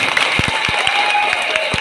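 An audience claps for a young child Bihu performer at a stage event, a short stretch of steady crowd applause with distinct hand claps standing out over a dense wash of noise.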